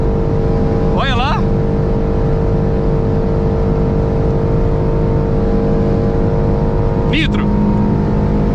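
Renault Sandero RS with nitro held at full throttle, a loud steady engine drone throughout, with voices briefly talking over it near the start and again near the end.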